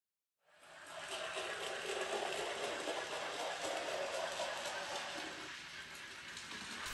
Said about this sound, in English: All of the locos, steam or diesel, have their own appropriate sound.